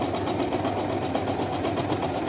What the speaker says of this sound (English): we gotta do is top stitch all around this whole thing using a wide stitch length.